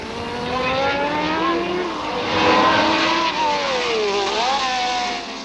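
A 1978 fan car racing, its engine screaming loud and close with wavering pitch as it revs, shifts and swells past, continuous for several seconds.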